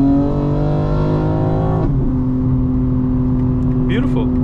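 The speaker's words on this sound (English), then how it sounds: "So you're getting a sense of how it sounds inside the car, guys. It sounds excellent. A lot of intake noise, a lot of engine whine." Inside a 2025 BMW M4 Competition xDrive, the engine drones with layered harmonic whine and intake noise, dropping sharply in pitch as revs fall, then climbing again while a voice briefly speaks.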